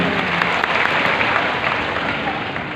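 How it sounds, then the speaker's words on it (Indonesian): A church congregation breaks into loud, lively applause during a sermon, a thick continuous wash of clapping with a faint tonal hum beneath. "Tepuk tangan yang paling meriah di dunia."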